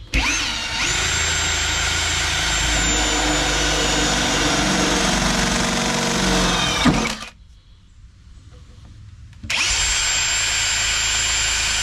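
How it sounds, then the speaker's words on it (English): A power drill bores holes while a running board is fitted to a 2014 Ram Promaster van, whining loudly and steadily for about seven seconds, pausing briefly, then starting up again close by. "there's my holes drilled"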